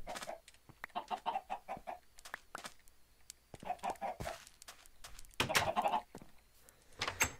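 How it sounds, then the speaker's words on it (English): Chickens in the Minecraft video game cluck in short repeated bursts, with several clucking phrases spread across the clip at moderate loudness and no talking. "Oh, chickens."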